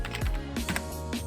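Quick keystrokes on a computer keyboard as a command is entered in a terminal, a few close, clattering taps in a short burst.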